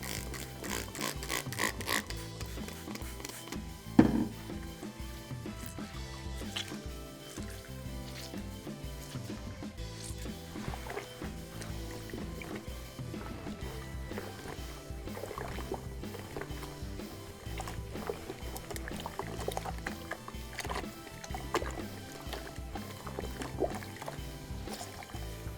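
Foam air filters squished and rinsed in a bucket of water, continuous sloshing, squelching and splashing close by, with no talking.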